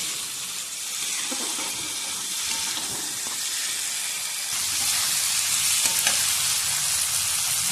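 Fried potatoes being stir-fried with spice masala in a pan, a continuous close sizzle with stirring scrapes that grows louder partway through.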